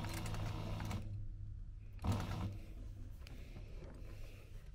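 An electric sewing machine stitches through heavy leather on a duffel bag, a loud continuous mechanical drone that pauses briefly and then resumes at a lower level, close by with no talking.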